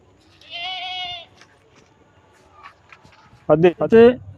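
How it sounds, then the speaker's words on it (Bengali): A Black Bengal goat on a goat farm gives one clear, drawn-out bleat close by, followed after a quiet pause by someone talking loudly nearby. "আসুন এই ছাগলগুলো আমরা দেখাই"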